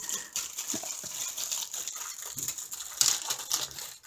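Plastic baggies holding diamond painting kit pieces are handled at close range, making soft crinkles and rustles with small crunchy bursts and light tapping throughout.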